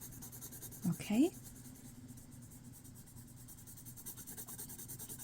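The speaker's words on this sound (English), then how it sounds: "I like to color in on the side of the pencil." Green colored pencil shading on paper, held on its side for a steady, soft scratchy rub, with a brief spoken word over it.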